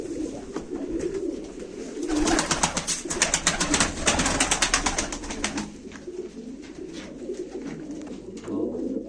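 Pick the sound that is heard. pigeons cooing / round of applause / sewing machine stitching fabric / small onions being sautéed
pigeons cooing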